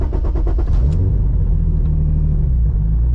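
Car engine fitted with reinforced engine and gearbox mounts cranking with a rattling burst, then catching and settling into a loud, deep, steady idle rumble close by.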